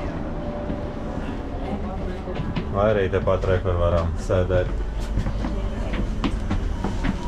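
A graffiti-covered passenger train pulls into a station in Prague, its engine rumbling low with metallic squeals and clatter, while people talk nearby.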